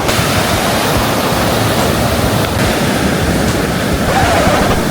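Ocean waves wash up on a Goa beach in a loud, constant roar of surf and rushing water, with wind buffeting the microphone throughout.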